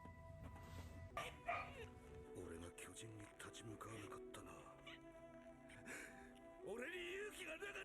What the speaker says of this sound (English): The dog's barking, so we'll go give him a treat to shut him up